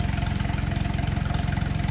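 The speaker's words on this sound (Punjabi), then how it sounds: "ਆਪਾਂ ਨੇ ਹੁਣ ਜਨਰੇਟਰ ਲਾਇਆ" A generator engine runs on a farm to pump water, giving a steady, close, loud rhythmic thumping chug with even pulses and no voices.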